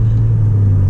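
The turbocharged five-cylinder engine of a 1998 Volvo S70 T5 hums loud and steady from inside the car, a constant low drone with no voices over it.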